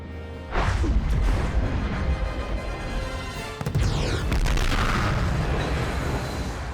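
Space battle explosion effects from the Clone Wars Battle of Mon Cala, with ships coming down: heavy booms and crashing blasts in two big bursts, loud and rumbling, then a sustained roaring wash, no voices.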